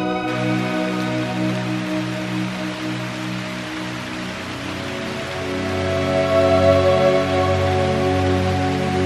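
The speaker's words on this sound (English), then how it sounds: "Started pouring with rain" Heavy rain pours steadily in a dense, hissing wash over a park at Furnas on São Miguel in the Azores, growing slightly louder toward the end, with no voices.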